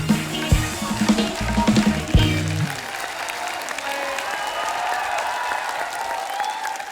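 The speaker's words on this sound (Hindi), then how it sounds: "एक बार जोरदार तालियां हमारे मेहमानों के लिए।" Loud, steady applause from an audience fills the space, clapping continuing evenly throughout.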